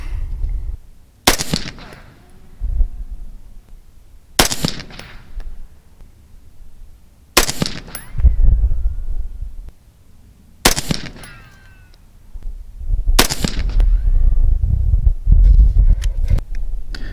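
Five loud, sharp rifle shots of .223 Remington ammunition go off at spaced intervals outdoors, each with a brief echoing tail and a low rumble of wind in between.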